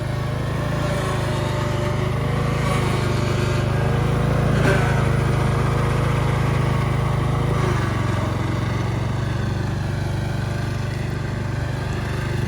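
A Craftsman LT1000 riding lawn mower's engine runs steadily, a loud, close, continuous low drone with a faint rattle and only slight shifts in pitch, no voices.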